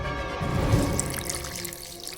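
Water pours from a vessel, a soft, close splashing trickle that swells briefly and then fades over about two seconds, with no voices.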